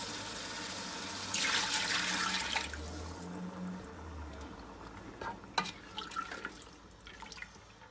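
Water is poured into a cooking pot of chana dal in a short, rushing burst, followed by scattered drips and light clinks as the stream trails off.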